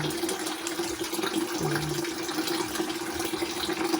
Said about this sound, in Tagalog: Tapos lagyan natin ng tubig kunti guys para hindi siya masyadong maasin.